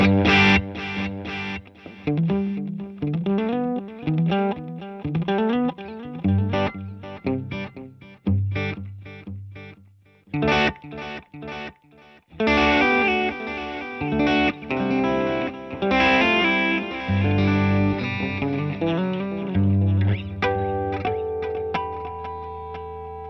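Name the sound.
guitar ping-pong stereo delay effect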